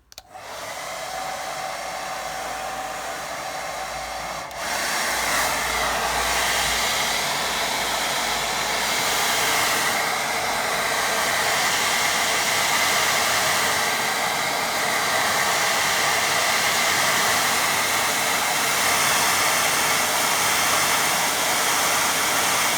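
A hair dryer drying a watercolour painting blows a steady, loud whooshing roar for the whole stretch, starting abruptly and rising slightly in intensity after a few seconds, with no talk.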